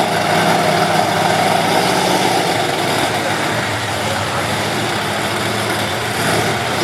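A Bigfoot Ford monster truck engine roars loudly and steadily at an outdoor monster truck event in Radford, Virginia, a dense, sustained mechanical drone throughout.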